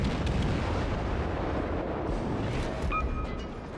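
A gun salvo from the destroyer Gremyashchy in World of Warships lands as a heavy, rumbling roar that rolls on for several seconds, with a low boom fading slowly toward the end.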